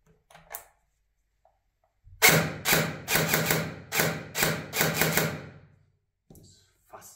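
An A&K MSK CQB airsoft gun running on a 7.4V battery fires a burst of rapid, sharp, close shots lasting about four seconds, with quiet handling noises before and after.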